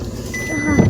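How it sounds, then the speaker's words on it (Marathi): A car engine runs steadily and close by while the car is being parked, with a low rumble and a slight rise in level near the end. No one speaks. "आता पापा लावत आहेत गाडी"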